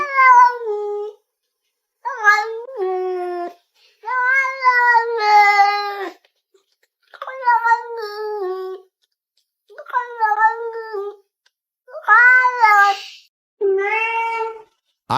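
A cat meows loudly and insistently in a long series of drawn-out, voice-like yowls, about seven close calls separated by short silences.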